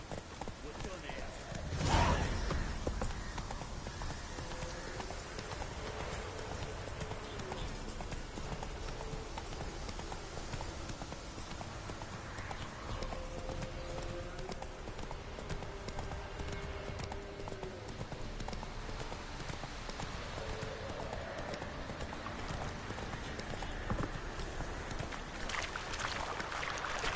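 Horse hooves clip-clopping at a steady walking pace in The Witcher 3, fairly faint and continuous beneath ambient game sound, with brief spoken dialogue early on.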